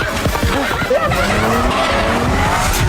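A car skids with squealing tires into a horse racing ground in a film chase scene, a loud close screech sweeping in pitch over engine roar for a few seconds.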